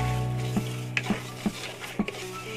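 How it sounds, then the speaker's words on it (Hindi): A spoon stirs semolina as it roasts in a pan with roasted cashews and coconut for sweet suji halwa. A soft continuous sizzle runs underneath, with several distinct scraping knocks against the pan, close and clear. "भूनूंगी जब तक ये थोड़ा सा ब्राउन कलर का हो ना जाए।"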